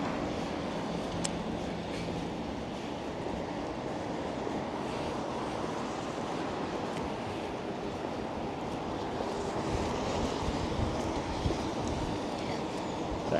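A harsh headwind outdoors in Malmö, Sweden, heard while walking: a constant loud rushing roar of wind against the microphone that fills the whole stretch with little change in level.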